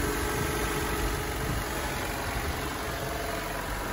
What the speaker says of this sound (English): Car's on.